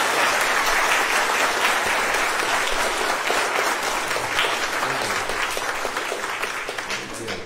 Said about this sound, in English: we are going to stand and give them a clap welcome to the church